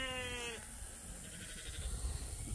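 A sheep gives one loud, close bleat lasting about half a second, followed by muffled outdoor shuffling and ambient noise on a farm after heavy rain.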